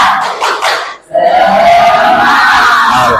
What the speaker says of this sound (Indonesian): mari kita melaksanakan tepuk semangat